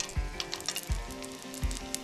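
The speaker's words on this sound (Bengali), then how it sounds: "এবার ফোড়ন দিয়ে দেবো ওই তেলের মধ্যেই দুটো তেজপাতা, একটা শুকনো লঙ্কা, গোটা গরম মশলা" Bay leaves, a dried red chilli and whole garam masala dropped into hot oil left from frying potatoes, crackling in a steady close sizzle with a few sharp stirring knocks against the pan.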